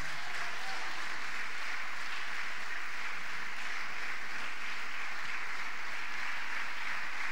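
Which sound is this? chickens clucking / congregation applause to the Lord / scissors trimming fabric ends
congregation applause to the Lord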